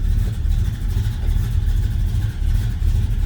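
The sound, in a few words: 1974 Plymouth Road Runner 440 engine idling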